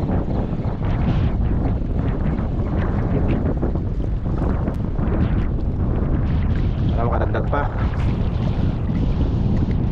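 Loud, constant sea wind roars and buffets the microphone during ultralight fishing, with a person speaking briefly underneath and a faint motor or water hiss.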